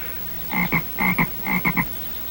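A man imitates a bullfrog's croaking call as a signal, giving three short groups of deep, throaty croaks with two or three pulses each, clear and close in a quiet setting.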